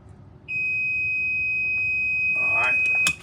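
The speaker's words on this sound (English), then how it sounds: "So now you heard the reverse buzzer, which tells you that I'm powering the harness up." The reverse buzzer on an EZGO 48V lithium golf cart gives a steady, high-pitched continuous beep that starts abruptly and holds close by, with a brief clatter of handling noise near the end.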